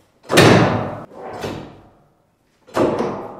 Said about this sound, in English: He then proceeded and he pushed that lever forward.